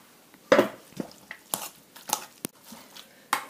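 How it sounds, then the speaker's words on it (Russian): Cooked blackthorn sloes are worked through a colander in a kitchen, with a sharp clatter of metal and utensils followed by scattered scraping knocks and clinks at irregular intervals, close by, with no talking. "Теперь мы выливаем вот это все содержимое и перетрем его через дуршлаг."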